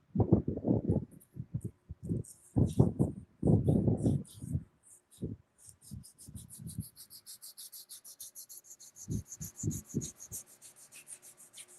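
Wooden handles are rubbed with sandpaper in short, rhythmic strokes, close and fairly quiet, with bursts of scraping and pauses, with faint high-pitched background noise.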